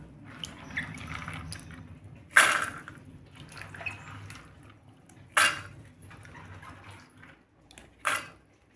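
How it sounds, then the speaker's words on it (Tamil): Soaked fresh broad beans are washed by hand in a vessel of water in a home kitchen, giving soft steady splashing and sloshing with three louder splashes, and no voices. "இதுக்கு நம்ம மொச்சையை நல்லா நல்ல தண்ணியில் கழுவிட்டு ஒரு குக்கருக்கு மாற்றிக்கலாம்"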